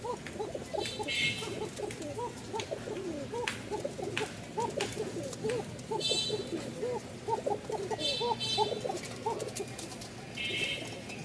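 A male pigeon coos repeatedly and close by after a female is released near it, a rhythmic series of soft throaty calls over faint background noise, with no talking.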